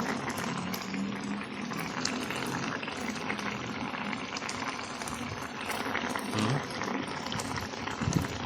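Small tulingan fish cook as adobo in a pot, the liquid bubbling at a steady low boil with scattered pops and gurgles, close and fairly quiet throughout, with no one speaking.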